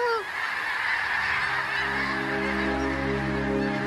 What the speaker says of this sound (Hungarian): a madarak elindulnak délfelé